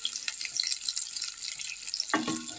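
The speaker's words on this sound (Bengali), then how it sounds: "এই সেদ্ধ আলুটাকে আমি ভেজে নিচ্ছি একটু।" Boiled new potatoes frying in oil in a pan give a steady bright sizzle throughout, with a louder burst and clatter near the end as the pieces are moved.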